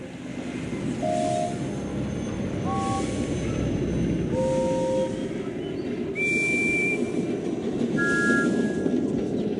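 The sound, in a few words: Thomas the Tank Engine train whistle sound, Thomas & Friends video game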